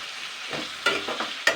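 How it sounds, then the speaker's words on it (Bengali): Chopped onion, tomato and green chili frying in a pan for a meat and vegetable curry, with a steady close sizzle and a few scraping strokes of a stirring spoon against the pan. "এরপরে আমি পেঁয়াজ কুচানো টমেটো আর কাঁচা লঙ্কাটাও দিয়ে দিচ্ছি তো এটাকে আমি দুই মিনিট মতো নাড়াচাড়া করে নেব"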